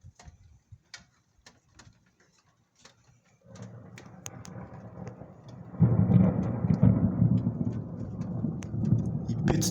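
Thunder rumbles through a heavy storm, first as scattered faint crackles and taps, then as a low rolling roar that swells and stays loud and sustained near the end.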